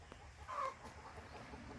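Chickens at a farm coop on a mixed smallholding cluck briefly and softly, a short burst of bird calls rising over steady outdoor background noise.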